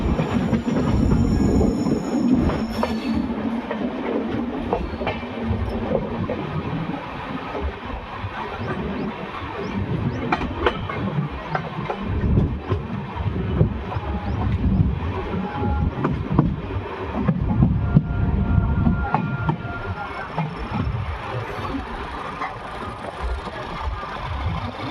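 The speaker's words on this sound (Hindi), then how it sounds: "ट्रेन बढ़ रही है लूप लाइन की तरफ" Train 12182 Dayodaya Express rolls onto the loop line as it nears Kishangarh railway station, with a steady loud rumble of wheels and car noise and occasional clacks and squeals, heard continuously from on board.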